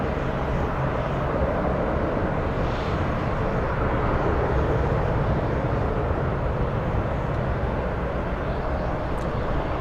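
A Delta airliner departing for Rome gives a loud, continuous roar of jet engines that fills the whole stretch evenly, with no voices heard.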